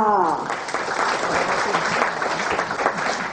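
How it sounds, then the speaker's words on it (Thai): Audience applause at a trade promotion event in Hat Yai, Songkhla, a dense steady clapping that follows a brief voice at the start and carries on loud and unbroken to the end. "ขอเสียงปรบมือด้วยค่ะ"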